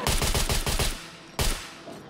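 A whole magazine emptied in the video game SCUM: a rapid, loud burst of automatic gunfire lasting about a second, a short pause, then one more sharp shot trailing off, no talking.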